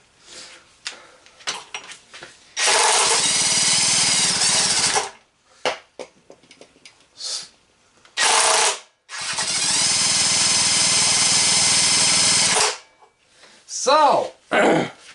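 An impact wrench spins over a small engine, sounding in two long loud bursts of steady whirring with rapid hammering, about two and five seconds each, among shorter bits of handling noise.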